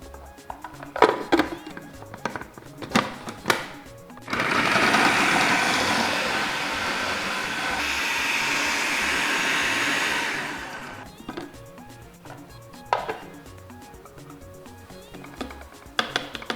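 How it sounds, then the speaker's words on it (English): A food processor chops two bulbs of onions, a loud steady whirring that runs for about six seconds. Clatter and handling noises come before and after it. "So I have my food processor here now, and I will start processing."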